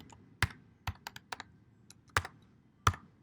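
Someone types a search keyword on a computer keyboard: about a dozen crisp, close key clicks in an uneven rhythm with short pauses, in a quiet room.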